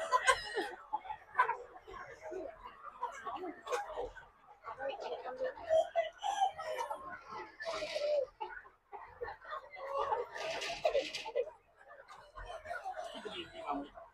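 Chickens cluck and crow inside a coloured-breed poultry farm house, a busy, fairly faint flock chatter running throughout with occasional louder calls, under quiet talk.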